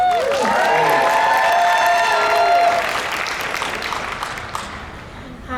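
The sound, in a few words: audience applause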